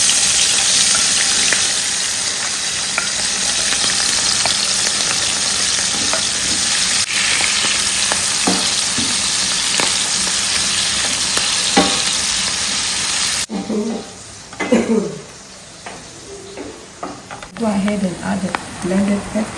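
Shredded onion sizzling and frying loudly in a pan of hot palm kernel oil, with steady crackle and occasional stirring; the sizzle quiets toward the end as a voice talks over it.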